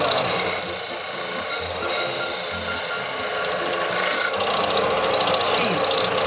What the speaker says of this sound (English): Oh, I just have to manually sand it.